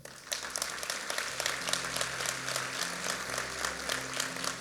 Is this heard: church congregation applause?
yes